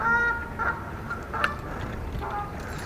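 Geese honk repeatedly at a lakeside dock, with several calls scattered across the moment. Some are close and others farther off, over a steady outdoor background.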